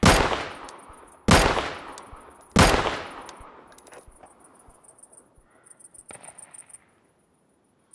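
Gunshots in the survival shooter Deadside: three loud, sharp reports about a second and a quarter apart, each with a ringing decay, then a quieter rapid rattle of smaller clicks trailing off.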